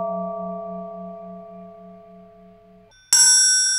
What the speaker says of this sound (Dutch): Het wordt bijna een kerkklok.